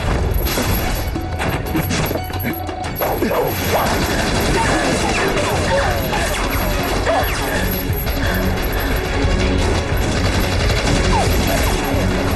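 Gunfire fills an action-movie battle scene as a female assassin storms a Japanese army base: dense, continuous bursts of shots and crashing impacts pile into a loud, chaotic wall of noise with barely any voices.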